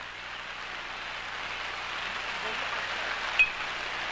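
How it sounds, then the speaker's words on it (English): A heavy rain downpour pours over an outdoor youth baseball game, a steady, dense hiss lasting throughout at an even level, with one brief sharp tick near the end. "it's just a downpour now outside"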